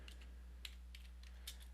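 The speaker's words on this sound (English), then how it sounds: "I'm typing with one hand, by the way." Quiet one-handed typing on a computer keyboard, a handful of soft, irregular key clicks in quick bursts over a constant low electrical hum, without talking.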